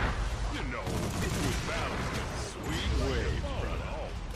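Gunfire in a multiplayer shooter video game, dense continuous volleys of shots coming from several directions, with voices talking over the constant crackle.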